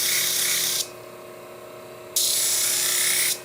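Shear tip being rounded on a 400 grit cushion plate sharpener, giving a steady high whirring hiss that runs for under a second, drops out, then returns for another second or so, near and alone.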